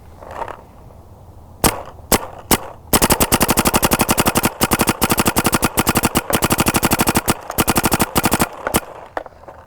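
A paintball gun fed by a Virtue Spire loader fires a few single semi-auto shots, then breaks into fast ramping bursts of rapid, loud, closely spaced pops with short gaps between strings.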